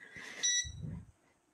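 A pasta cooker's timer gives a short, high electronic beep as it is set, followed by a soft low rumble of handling, all fairly quiet.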